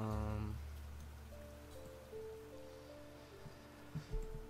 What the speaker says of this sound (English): Rains and plants regrow.